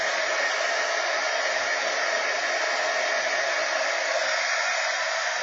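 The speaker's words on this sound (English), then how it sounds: "Let's hit this with the heat gun just a smidge." A heat gun blows steadily without a break, a close and constant rushing hiss. It is drying paint on a patriotic altered craft tag, and no voices are heard.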